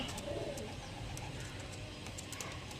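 Andhra pigeons coo softly and steadily, low and murmuring, against a faint background hum with a few light chirps.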